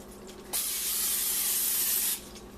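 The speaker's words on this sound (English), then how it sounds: "I'm going to lightly spray it with some non-stick cooking spray." A steady hiss of non-stick cooking spray from an aerosol can runs for about a second and a half, close by, with quiet room tone before and after.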